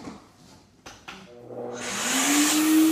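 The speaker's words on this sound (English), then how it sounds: "I'm going to assist evacuating the bag with my shop vac" A shop vac drawing air out of a vacuum press bag for wood bending follows a couple of clicks, spinning up from quiet to a steady, loud, rising whine that carries on alone.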